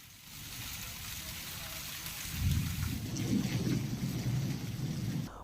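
A thunderstorm in the Sonarai area during the lightning season: steady, loud rain hiss runs throughout, and a deep rolling thunder rumble swells in partway through and lingers to the end.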